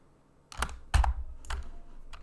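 Computer keyboard keys pressed in a few separate clicks, a Control shortcut while moving files between folders, close and fairly quiet with no talk.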